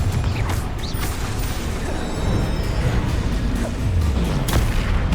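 Spells such as Stupefy and Confringo are cast in Hogwarts Legacy, giving dense, continuous combat noise with repeated sharp cracks and bursts and low rumbling impacts throughout.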